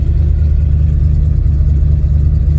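A 1990 Ford F-150 engine runs steadily and loud at close range with the clutch released, a continuous low mechanical drone with no talking.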